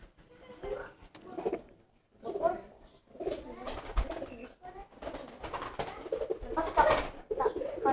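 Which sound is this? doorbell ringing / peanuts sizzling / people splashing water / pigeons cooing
pigeons cooing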